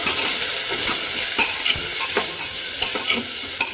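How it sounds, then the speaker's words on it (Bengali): Vegetables fried and stirred in a pan with ginger paste, turmeric and cumin powder for a daliya khichdi: a loud, steady sizzle throughout, broken by repeated close scraping and clinking strokes of a spoon against the pan. "আনাজগুলো ভালোভাবে কষিয়ে নেব।"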